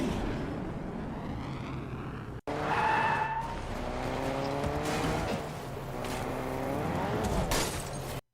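Cars skidding in Fortnite's Car Royale mode, with loud, sustained tire squeals and revving engines sweeping up and down in pitch, cut by a brief silence before another long slide.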